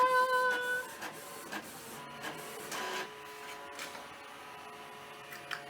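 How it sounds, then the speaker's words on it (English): Canon printer scanning with a loud mechanical whir, steady motor tones and repeated clicks and ticks over about six seconds, unusually noisy for the machine, with no talking. "Now it'll scan. That is really noisy."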